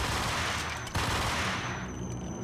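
Gunfire in the video game Max Payne: a loud burst of shots near the start, then a sustained harsh roar with a thin ringing tone, no talking.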